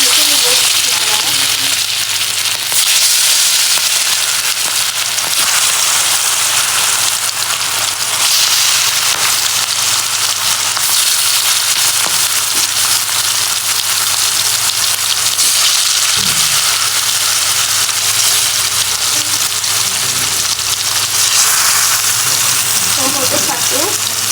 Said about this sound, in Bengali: মশলা দিয়ে মুরগিটা কিন্তু মাখানো হয়ে গেছে ভেজে নিব